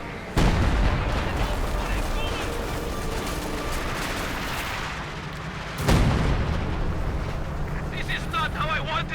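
Company of Heroes 2 battle in snow with machine gun fire, sniper shots and incoming rockets: dense continuous battle noise with two heavy booming impacts, and a voice talking over it.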